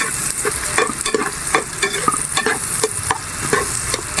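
Ginger and aromatics sauté in a pan: a constant oily sizzle broken by quick, regular scrapes and knocks of a spatula stirring, close and loud, with no talking.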